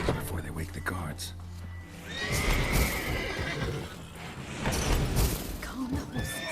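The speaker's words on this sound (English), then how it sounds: "Gotta calm all the horses before they wake the guards." Several horses neigh and whinny in a stable in The Witcher 3, loud and close, with shuffling hoof clops beneath and someone talking over the animals.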